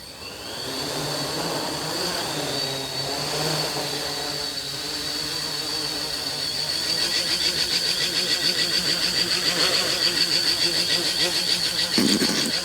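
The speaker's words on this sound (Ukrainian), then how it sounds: "Двигуни запущено." A 13-inch drone's motors spin up from rest, rising into a loud, steady high-pitched whine that holds and thickens with a buzzing drone for several seconds, with no voices.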